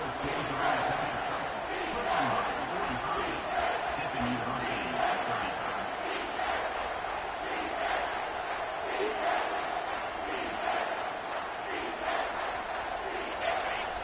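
Stadium crowd in the College Football 25 video game roars in a sustained, loud wash of cheering and shouting during a late-game third down, with a commentator talking over it.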